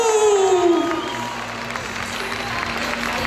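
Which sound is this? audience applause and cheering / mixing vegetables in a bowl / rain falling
audience applause and cheering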